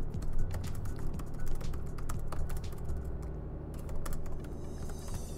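Rapid, continuous typing on a computer keyboard during a Roblox game session, a dense clatter of key presses over a steady low background hum.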